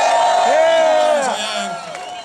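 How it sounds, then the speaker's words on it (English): A rally crowd in Des Moines cheers and whoops for veterans, a sustained mass of raised voices that swells loudly and then gradually fades. "Let's give a round of applause to the veterans."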